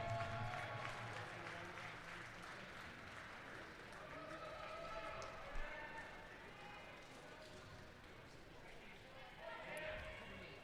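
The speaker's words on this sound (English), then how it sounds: "a nice warm round of applause for the top 8 finishers" Applause for the top eight finishers at a senior swimming championship finals, a steady wash of clapping heard from a distance and fairly faint, with crowd murmur mixed in throughout.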